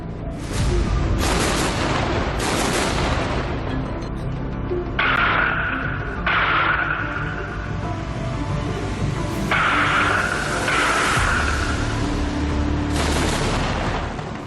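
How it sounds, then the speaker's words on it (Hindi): Russian tank fire striking a firing position in Mariupol, with repeated heavy booms and bursts of gunfire echoing across a continuous loud battle din, several sharp blasts standing out over the roar. "फायर पॉइंट पर कैसे रशियन टैंक ने हमला किया है मारियोपोल में"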